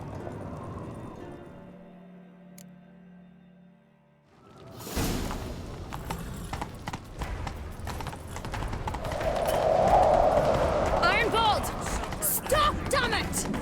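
Rapid hoofbeats of galloping horses in the video game The Witcher 3 kick in after a quiet stretch, with swishing movement and voices talking over the clatter.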